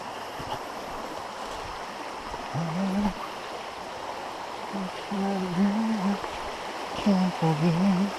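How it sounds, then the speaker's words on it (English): Creek water runs steadily beside a forest trail in the Ouachita National Forest, a soft continuous wash with a few faint low hums rising and falling over it. "That's the creek"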